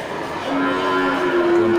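Cattle at a livestock market, a low, drawn-out moo rising out of a steady crowd murmur and loud background din.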